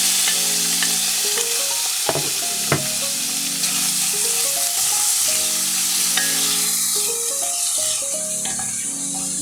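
Cubed salmon fillet sautés steadily in a hot pan, a continuous close sizzle with intermittent clinks and scrapes of a utensil stirring, no voices present.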